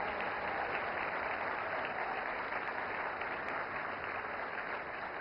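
Steady applause from the audience at the 70th National Film Awards ceremony, a dense continuous wash of clapping that stays even and moderately loud for the whole stretch.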